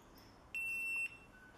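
A multimeter in continuity mode gives a single steady beep lasting about half a second while diodes are tested on a shorted associated circuit board. The tone is clear and moderately loud over a quiet background.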